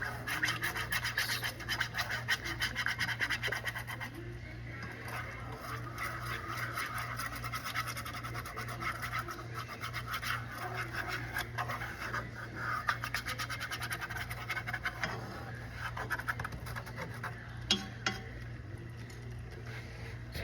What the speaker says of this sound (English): I guess I'm using a skewer to kind of scrape this.